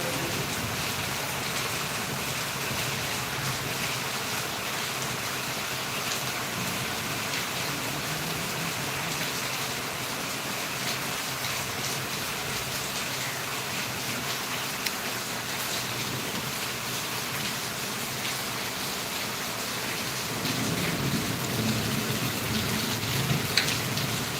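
Heavy rain pours down continuously at close range as a dense, steady hiss, growing slightly louder near the end; no thunder stands out and no one speaks.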